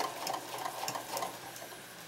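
Sewing machine stitching a curved crotch seam on fabric for pajama bottoms, a faint, fast, steady mechanical whir with regular ticking pulses, heard alone and close.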